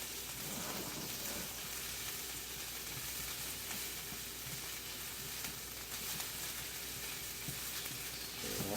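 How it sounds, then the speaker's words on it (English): Garlic sizzles steadily in a hot pan, a constant soft crackling hiss at low volume with faint stirring noises, no voices over it. "watch your garlic. You want to make sure that it doesn't blacken because that's when it gets bitter."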